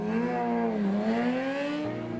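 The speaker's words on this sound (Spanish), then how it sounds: "Y obviamente no todos los autos respetan la cebra, como este taxi, este auto o esta moto," Traffic on the Abbey Road zebra crossing, a taxi, a car and a motorbike driving over it. A loud, close engine drone rises and falls in pitch as a vehicle passes without slowing.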